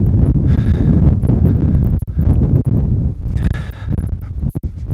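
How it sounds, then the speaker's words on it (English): Strong wind buffets a microphone during an outdoor walk, giving loud, gusty low-frequency roaring with brief dropouts between gusts. "the wind is coming directly at me"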